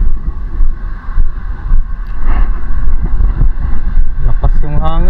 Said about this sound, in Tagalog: Lakas yung hangin.